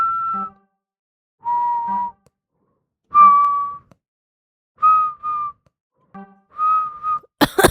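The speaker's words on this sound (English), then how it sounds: "I'm trying to whistle." A lone person whistles short melodic phrases, trying out a tune for a bootup sound. The notes are clear and close, separated by pauses, with a brief noisy burst at the end.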